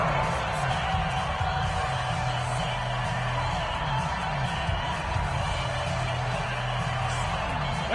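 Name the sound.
stadium crowd cheering in a football video game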